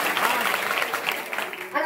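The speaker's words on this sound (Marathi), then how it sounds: "काय टाळी वाजवायचं" Audience clapping during a Marathi kirtan-style religious discourse, a steady dense patter of many hands sustained throughout with mixed voices under it.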